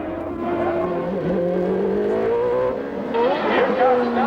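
A 1994 IndyCar driven by Nigel Mansell laps the 1.95-mile Portland road course, its engine a steady high-pitched drone that shifts pitch through corners, with a commentator talking over it throughout.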